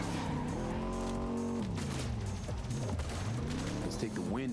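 A car chase from Cyberpunk 2077: a loud engine revs and shifts, with tires squealing and skidding toward the end, and a dense mix of game effects running throughout.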